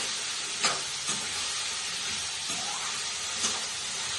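A steady, loud sizzling hiss of bitter gourd frying in hot oil, with a few soft clicks and stirring sounds scattered through it.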